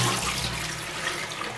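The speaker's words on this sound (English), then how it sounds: "Let's try to flush the water down." A hotel room toilet flushing, with a steady rush of water running close by for the whole short stretch and no voices over it.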